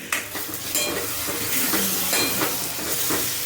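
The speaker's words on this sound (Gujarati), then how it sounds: "અહીંયા ડુંગળી સાતળાઈ ગઈ છે જીગર" Onions sautéing in a pan for paneer matar, a continuous close sizzle with repeated scraping and clinks of a utensil stirring against the pan, no talking over it.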